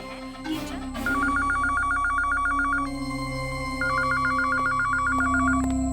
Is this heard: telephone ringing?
yes